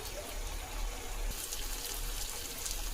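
Water from rinsing a spice bowl poured into a pan of frying masala for a Bengali tengra fish curry, a steady close trickle and splash that keeps running without a break.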